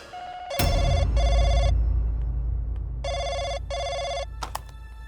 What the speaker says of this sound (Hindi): मानव, फोन आया मोनिका को, हेडफोन लगा।